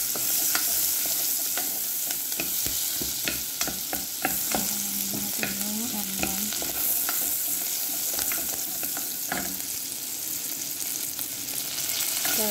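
Oil and butter sizzling in a pan for shorba, a soft, steady fizz broken by frequent sharp clicks and taps of a utensil, with a brief tonal squeak midway.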